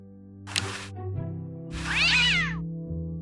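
A cartoon cat meows twice in the adventure game Day of the Tentacle, one short cry and then a longer, rising and falling yowl, both over a steady synthesized music bed.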